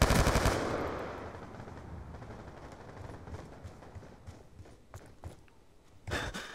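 Gunfire in the video game Black Ops II: a loud opening burst, then scattered quieter shots and impacts, with another loud burst near the end.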